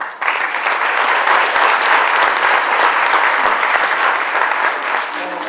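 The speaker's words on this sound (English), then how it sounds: "let's give them a round of applause" A crowd at a mayor's prayer breakfast gives loud, steady applause for the Boy Scouts who presented the colors, a dense wash of clapping that fills the whole stretch and fades slightly at the end.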